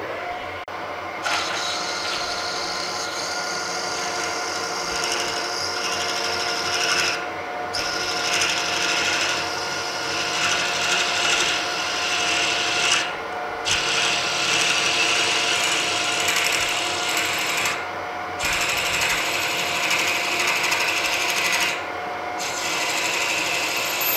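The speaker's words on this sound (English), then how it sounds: "drill it through the center." A drill bores through the center of a bronze blank for a Harrison universal mill table nut, giving a steady high grinding rasp that runs continuously with a few brief pauses, close and loud.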